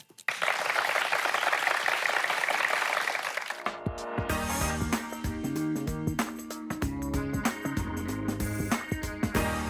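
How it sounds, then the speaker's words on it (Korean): Audience applause greets the start of a youth-politics lecture in Korea, a dense wash of clapping for about four seconds before it gives way to music and stage sound. "그 첫 시간의 문을 여러분의 큰 박수로 열겠습니다."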